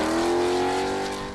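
A low, wedge-shaped race car loosely based on a Formula One car, with huge tires and eight exhausts, roars loud and close, its engine note sliding slightly before easing off.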